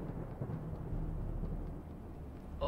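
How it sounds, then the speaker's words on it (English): Stormy weather in the video game Assassin's Creed Chronicles: Russia, heard as a steady low rumble of thunder with rain hiss that holds for the whole stretch at moderate level, with no talking. "Oh, the storm's a-brewing."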